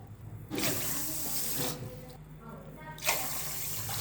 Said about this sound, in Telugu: 2 గ్లాసెస్కి 4 గ్లాసెస్ వాటర్ పోసుకోవాలి.